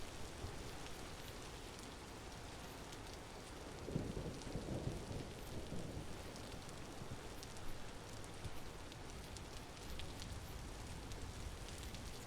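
In the Vintage Story video game, steady rain patters through a thunderstorm, and a low rumble of thunder swells in the middle before the downpour goes on quietly and evenly.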